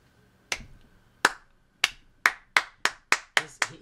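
A man claps in a TV show scene: eight sharp, close handclaps, slow and spaced at first, then coming faster, with a faint hum underneath and no talking.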